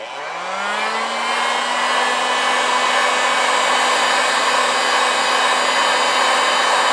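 A heat gun blows on an S&W Model 10 revolver before cold bluing, its motor spinning up in the first second into a loud, steady whirring roar that holds constant nearby, with no speech.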